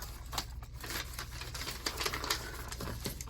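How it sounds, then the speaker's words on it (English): Scissors cutting paper to make a pocket for a Christmas journal, a steady run of close, crisp snips and rustles against a low background hum. "So I think we wanna cut this part off here."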